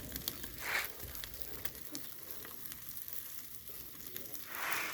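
Chicken grilling over a barbecue fire, a faint steady sizzle and crackle with soft hissing swells at the start and end, no voices.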